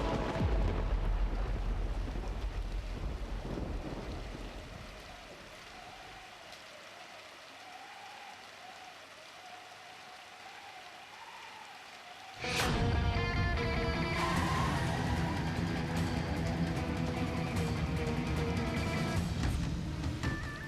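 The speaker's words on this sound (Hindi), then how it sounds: "अरे ये बारिश भी बंद नहीं हो रही है" Heavy rain pours in a steady dense hiss that softens midway, then returns louder and fuller with thunder-like rumble and a music score layered on top in a dramatic TV scene.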